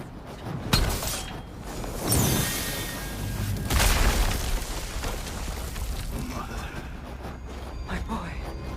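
A heavy door mechanism in God of War Ragnarok grinds open with loud booming, clanking thuds and a rumbling scrape, voices talking over it.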